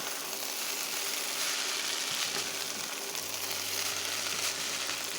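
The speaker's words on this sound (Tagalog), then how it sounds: "I will mix the rice here." Fried rice with sausages and corn being mixed in a hot pan, a steady sizzle with faint scraping and no talk.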